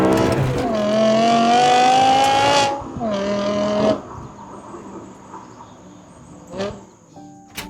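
A BMW E60 M5 with its V10 engine revs hard and close in two strong pulls, a smooth rising howl followed by a shorter burst, then drops to a faint idle hum.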